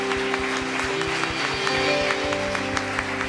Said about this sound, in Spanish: la iglesia le da un fuerte aplauso